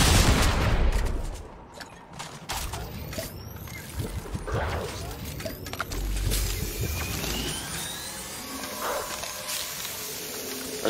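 Gunfire in a battle royale video game, a dense fusillade of shots with hissing game effects, loud and continuous across the whole stretch.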